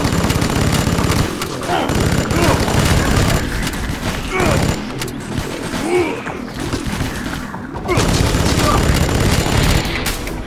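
Rapid automatic gunfire and booming shots from the video game Vivisector: Beast Within, loud sustained bursts with short pauses, as propeller-driven enemies fire back during play.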